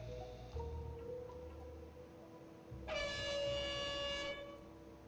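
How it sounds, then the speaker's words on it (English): A train horn blasts outside in WoW Classic Hardcore, in the Darkshore zone. It comes as a sustained, loud, tonal horn in the latter half, over a quieter game ambience with a faint earlier tone. "The train horn is gonna go off."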